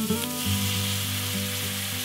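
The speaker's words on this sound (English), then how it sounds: "This just really helps with anything stuck on the pan to deglaze it, make nothing stick." Onions and garlic sizzling in a pan as dry farmer's wine is added to deglaze it, a loud steady close sizzle with a low hum underneath.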